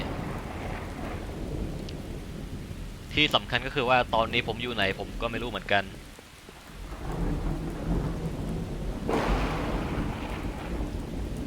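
Steady rain pours with low rumbling thunder beneath in the video game Miscreated, while someone talks over the storm for a few seconds in the middle.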